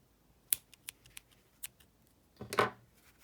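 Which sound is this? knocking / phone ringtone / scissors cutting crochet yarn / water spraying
scissors cutting crochet yarn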